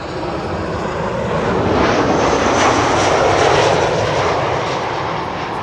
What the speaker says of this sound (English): this is Transavia, flight 5764, arriving from Girona